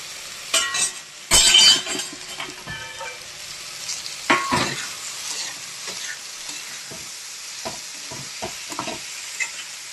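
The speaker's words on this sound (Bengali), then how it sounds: "চিংড়ি মাছটা একটু কষাতে থাকি" Prawns being sautéed in a pan before spinach is added, with irregular sharp spatula scrapes and clinks over a soft background sizzle, close by and with no talking.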